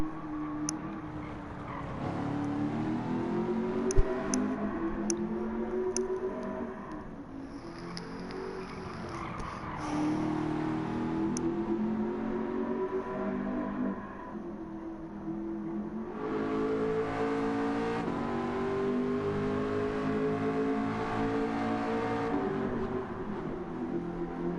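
Race car engine in a racing video game, revving and accelerating continuously with rising and falling pitch as it shifts gears, loud and close, with occasional brief tire squeal.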